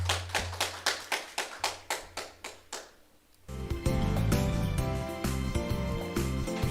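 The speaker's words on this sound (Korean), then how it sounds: "하나님께 영광 박수 드릴게요." A congregation at a Sunday church service claps in a brisk, even rhythm of about a dozen sharp claps that fade out, before loud instrumental music comes in and fills the rest.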